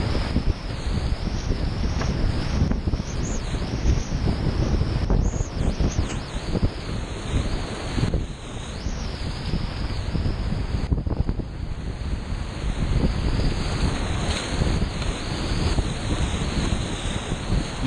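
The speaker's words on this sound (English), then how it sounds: "I think we're coming up on the Carnival Rapid." Whitewater rapids on Embudo Creek in New Mexico, heard from a raft approaching a big drop: a steady, loud broadband rush of churning water mixed with wind buffeting the microphone, continuous throughout with no talking.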